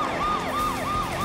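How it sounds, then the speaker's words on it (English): Police cruiser sirens wail in the Space Precinct video game, a loud continuous rising-and-falling electronic siren sweep repeating steadily with vehicle rumble beneath. "Lots of cruisers flying around, sirens blazing."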